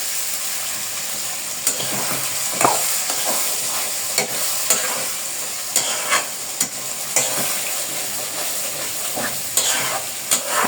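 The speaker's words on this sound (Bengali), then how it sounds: "এখন মশলাটাকে ভালোভাবে কষাবে" A spice paste of tomato and green chilli stir-fries in a pan, a constant sizzle punctuated by frequent sharp scrapes and clinks of the spatula, fairly close and loud, with no voices.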